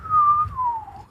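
A voice imitates the soft little nose whistle of Sparky, a small sleeping dragon: a single thin, wavering whistle that slowly slides downward, heard close and alone.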